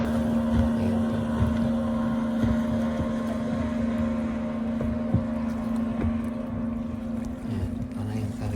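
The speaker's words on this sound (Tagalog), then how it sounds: "Maiingay yung mga bangka nila." Racing motorboat engines drone steadily at sea with a strong low hum, wind buffeting the microphone and water slapping, continuous and close throughout.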